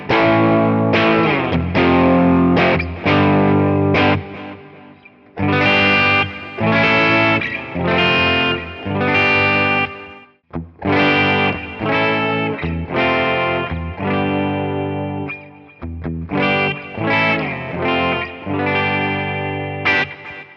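PRS SE electric guitar on its 58/15 bridge pickup, played in a loud series of strummed chords and ringing phrases with short pauses between, clean-to-effected tone filling the whole stretch without any voice.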